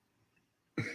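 A single short, sharp cough bursts out near the end after near silence, close and fairly loud.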